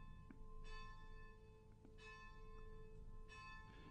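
A church bell at a religious community rings for the rosary, faint and distant, with sustained tones under a steady background hum and no talk.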